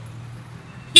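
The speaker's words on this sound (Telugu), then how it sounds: "అండ్ మిడిల్ లో ఇక్కడ మనకి హార్న్ అయితే ఉంది." A Yamaha XSR 155 motorcycle sounds its horn in one short, loud blast at the very end, after a low engine hum.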